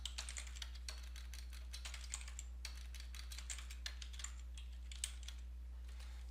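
Quiet, steady typing on a computer keyboard during a coding lesson, with rapid irregular key clicks over a constant low electrical hum.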